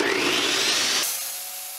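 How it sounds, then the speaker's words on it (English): An IQ tile saw cuts with a vacuum hose attached to clear debris, giving a steady, loud whine and rush of air for about a second before the blade sound drops away, leaving a quieter lingering hum. "Turn the saw on and remove the debris."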